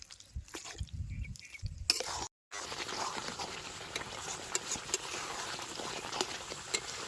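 Raw mango jelly bubbles and burbles in a pot while a spoon stirs it, a soft continuous simmer with a brief silent break near the start.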